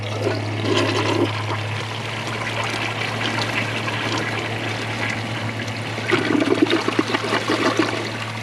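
A Kohler Wellworth Ingenium elongated toilet flushes loudly and close, a steady rushing of water with gurgling swells near the start and end over a low hum, with no talking.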